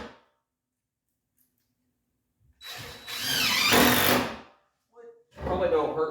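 Power drill driving inch-and-three-quarter screws into a wooden raised garden bed, two bursts of whirring motor and grinding bite after silence, close and moderately loud.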